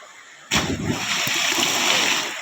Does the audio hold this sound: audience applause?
no